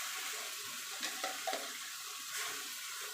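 A small splash of water goes into mustard, green chilli and ginger paste in a pan, giving a faint, close hiss and soft bubbling with a few light clinks, no voices.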